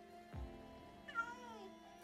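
A single soft cat meow from a Minecraft game sounds after a low thump, fairly quiet over faint steady background tones.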